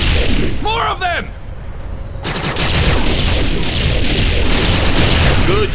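Dense, continuous gunfire in TimeSplitters: Future Perfect, loud sustained bursts from about two seconds on, after a brief quieter stretch with a shouted voice.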